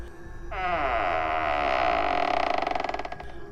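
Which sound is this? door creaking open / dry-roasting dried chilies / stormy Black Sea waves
door creaking open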